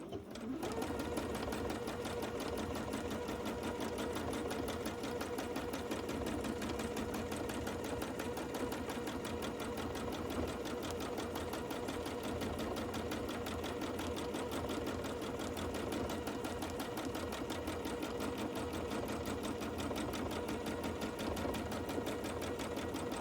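A sewing machine stitches a quilt in a steady, continuous high-speed whir, its needle rattling evenly and close by for the whole stretch without pause.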